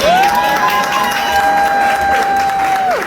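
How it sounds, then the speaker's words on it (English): Applause and cheering rise from the audience at a poetry night in a jazz club lounge, a loud, continuous crowd roar with a long sustained tone running under it, held evenly before tapering at the end. "y'all give her another round of applause"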